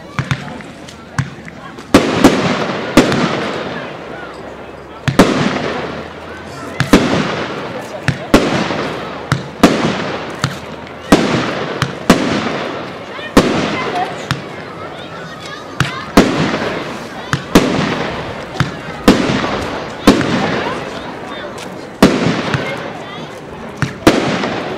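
A Gold Rush consumer firework cake from Vuurwerk Totaal fires a long series of loud, sharp shots at a regular pace, each followed by a crackling tail.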